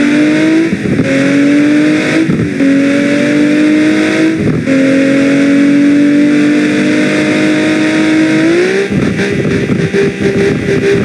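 Toyota Supra engine in the BeamNG.Drive driving game, revving hard in repeated climbing pulls with brief drops between gear changes, loud and close with no talk.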